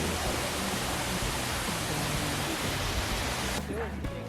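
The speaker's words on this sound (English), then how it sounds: "Look at this waterfall." A waterfall along the Road to Hana on Maui roars in a loud, continuous wash of rushing water, with a brief break in the roar near the end.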